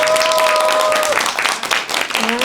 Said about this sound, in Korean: 첫 번째 순서로 발표하는 이연호 군을 응원하는 의미로 박수로 모시겠습니다.